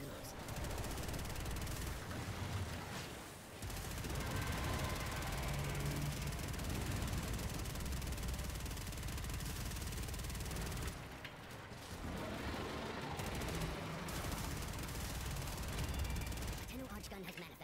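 Rapid automatic gunfire in Warframe's Duviri, aimed at the Orowyrm on Steel Path, a dense mechanical rattle sustained for long stretches with brief gaps, under game music and effects.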